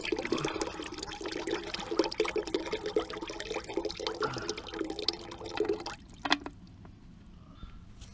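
Oil and water drain steadily from a submerged Jeep TJ 4.0-liter engine, a continuous splashing pour that runs for about six seconds, then cuts off, leaving a few last drips in near silence.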